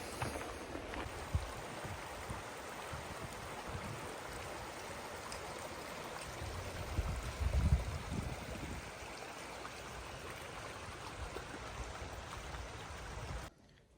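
A creek in the Dolly Sods Wilderness flows steadily with a constant rushing wash of water, a brief low rumble midway.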